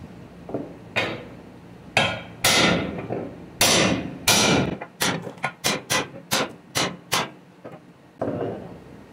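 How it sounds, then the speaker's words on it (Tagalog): Metal clangs from a hammer and extension bar striking a dented Toyota Corolla oil pan, a few slow blows followed by a quick run of sharp, ringing hits, close and loud with no talking. "Gamit tayo ng extension at saka martilyo."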